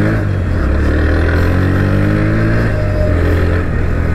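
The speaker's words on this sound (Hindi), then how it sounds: "अब फटाफट चलते हैं इस बाइक की राइड पर" A 2024 Bajaj Pulsar NS125 motorcycle engine drones loud and close while riding, a steady unbroken engine note with no talking.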